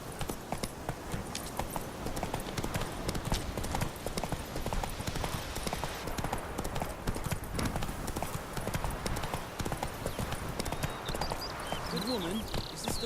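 Horse hooves clip-clopping along a road in The Witcher 3 video game, a steady brisk rhythm throughout, with brief voices near the end.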